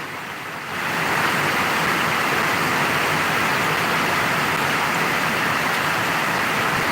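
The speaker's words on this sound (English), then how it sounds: "But hear the thunder and man." Heavy rain pours down steadily in a thunderstorm, a loud, dense hiss that swells in after the first second and holds without a break; no distinct thunderclap stands out.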